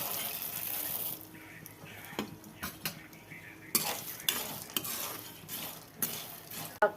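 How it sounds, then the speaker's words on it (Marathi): Peanuts and roasted gram dry-roasting in a pan for healthy sugar-free laddu, with a spoon scraping and tapping the metal in irregular close strokes over a soft background hiss. "आणि थोडे हलके हलके शेंगदाणे भाजूया। फुटाणे पण भाजून घेऊया।"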